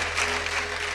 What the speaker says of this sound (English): If it's for the King of Kings, give the strongest of your applause.